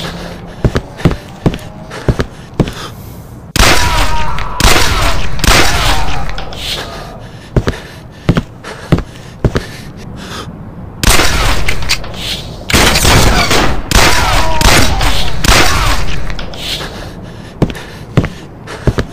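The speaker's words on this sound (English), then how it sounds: "Damn, that's a lot of AK." AK rifle gunfire rattles in a first-person shooter game, with loud sustained bursts of rapid shots alternating with isolated single booms and quieter gaps, close and heavy.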